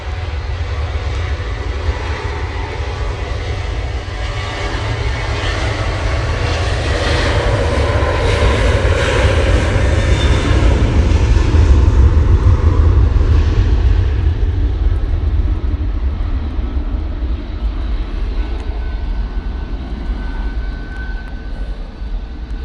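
A jet airliner departing Manchester Airport for Pisa on a windy day rumbles steadily, building to a peak around the middle before easing off, with deep low-end roar throughout.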